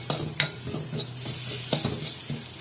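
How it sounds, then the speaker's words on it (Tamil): Mint and spices fry in ghee in a pan for a mushroom pepper jeera rasam, giving a soft continuous sizzle, with a few distinct clacks and scrapes of a spoon stirring, close and without speech. "நெய்யில் நல்லா ஃப்ரை பண்ணிவிட்டு"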